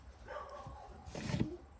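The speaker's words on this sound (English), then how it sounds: "She is barking like crazy." A single faint dog bark rises briefly out of low background noise, sounding somewhat distant.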